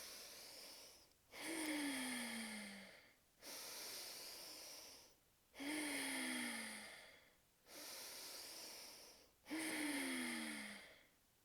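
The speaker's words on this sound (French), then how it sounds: "3 inspires et expires par le nez" Slow breathing in and out through the nose during a breathwork exercise, five long, airy, hissing breaths in a steady rhythm with short pauses between them, close and alone, with no talking.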